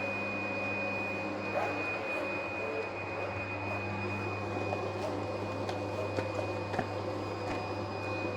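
PFI Blade B2+ digital cutting machine, creasing and cutting a job, produces a steady mechanical hum with a constant high-pitched tone. Faint ticks and clicks come from the moving head, with no talking.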